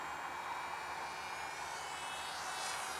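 1/20 scale R/C MiG-19 propjet model airplane in flight, a steady high-pitched electric whine with a faint rising tone, heard alone at moderate distance.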